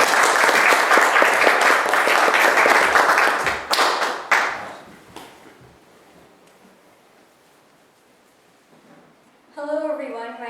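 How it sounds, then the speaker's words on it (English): A school audience applauds and claps as a student speaker is welcomed to the stage; dense clapping fills the first few seconds, then fades out, and a voice begins speaking at the end. "Please welcome my very good friend Juhi."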